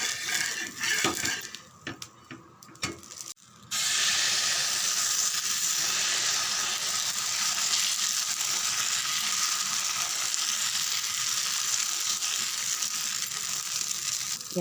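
Oil sizzles loudly and steadily around a dosa frying on a hot pan, a continuous close hiss after a few seconds of intermittent scraping and clatter.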